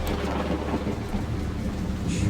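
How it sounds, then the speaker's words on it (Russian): Thunder rumbles under steady heavy rain in the vampire role-playing game Vampire: The Masquerade – Bloodlines, a dense, continuous storm wash with a brighter crack of thunder near the end. "Чёртова молния."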